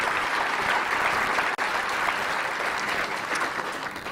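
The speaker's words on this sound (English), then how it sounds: "let's clap for the Diamond Joe" Loud, dense applause from a large audience at the 48th annual Telegraph Herald First Citizen Award ceremony, sustained for about four seconds with a single brief dip, no voices over it.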